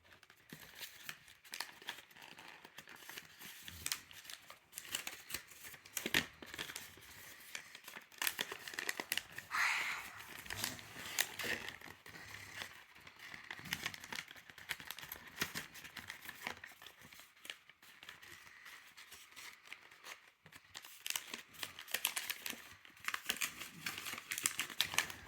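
Sheets of paper being folded and creased into an origami boat, continuous close crinkling and rustling with irregular sharper crackles throughout, no speech.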